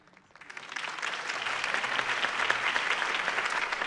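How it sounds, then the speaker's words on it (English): Crowd applause following a campaign speech in the video game Batman: The Telltale Series, rising from quiet into steady, fairly soft massed clapping that holds to the end. "could have heard that applause"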